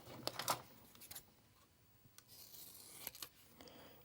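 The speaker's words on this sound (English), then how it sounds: "I cut this in half" Scissors cutting a sticker in half, quiet close snips and rustles in short bursts over a faint background.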